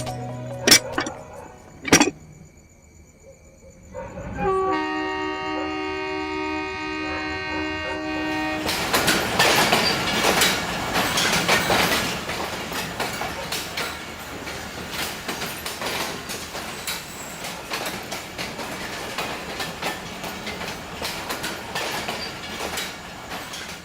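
A train rolls along the rails with rhythmic clatter and a loud horn, starting after a few quiet seconds with sharp knocks and tones, then building to a sustained, close, noisy rumble that fills the rest of the clip.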